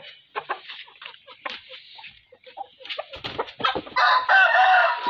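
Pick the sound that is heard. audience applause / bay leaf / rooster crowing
rooster crowing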